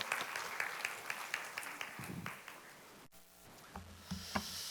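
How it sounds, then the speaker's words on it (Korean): A church congregation applauds in welcome. The clapping is faint and distant, with a brief pause near the middle before it picks up again. "나오실 때 우리 박수로 환영해 주시면 감사하겠습니다."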